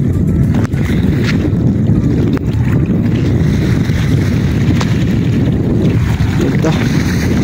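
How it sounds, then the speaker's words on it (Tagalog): Rushing water roars steadily throughout, with heavy wind buffeting the microphone and no pauses in the flow. "kung gaano kalakas ang agos dito sa lugar na ito"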